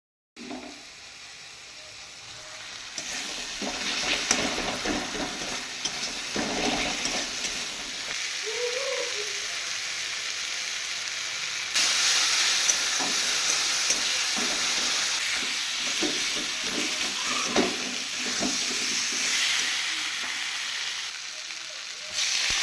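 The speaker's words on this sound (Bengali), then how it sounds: "ডিমটাকে ছুলে ভেজে নিচ্ছি" Boiled, peeled eggs frying in a pan of oil for an egg curry in a home kitchen, with steady sizzling and occasional stirring scrapes throughout, alone without talk.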